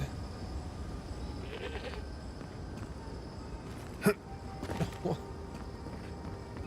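A goat bleats in the video game Avowed, a short loud call near the four-second mark and a softer double cry just after, over a steady low ambient bed of wind and game background.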